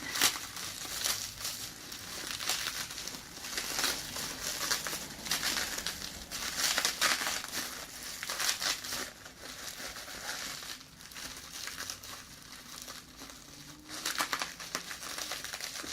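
A package taped up in bubble wrap is unwrapped, revealing a gauge wheel and caliper combo, with continuous close crinkling, crumpling and rustling of plastic wrap and tape for the whole stretch, with no voices.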